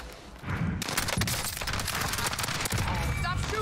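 Rapid gunfire bursts from a Call of Duty Warzone (Cold War) match with an AUG class, loud and nearly continuous with sharp cracks and thuds, as a player talks over the shooting.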